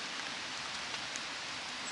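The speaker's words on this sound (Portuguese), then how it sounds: "Fica vindo chuva de novo." Steady rain falling outdoors in a valley, a soft continuous hiss of drops with no voices, even and unbroken throughout.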